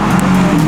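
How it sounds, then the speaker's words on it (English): Audi A4 with a manual gearbox firing up from cold, a brief loud burst of engine roar with a steady low hum, close and alone. "Cold start."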